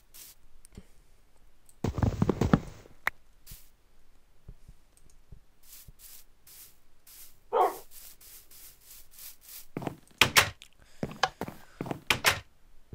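Wooden Minecraft door made of mixed woods being placed and opened in the video game: sparse, crisp clicks and dull thunks, with one louder rustling burst near the start and a cluster of quick knocks toward the end.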